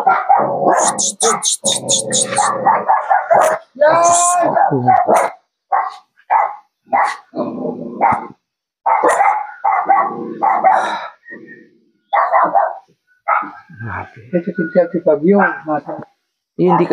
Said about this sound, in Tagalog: Kasi yung aso mula sa loob.